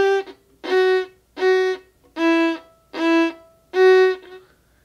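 A beginner saws through a simple tune on violin, six separate bowed notes with harmonic-rich, slightly scratchy tone, each stroke swelling and stopping with short gaps between, close and fairly loud with no voices.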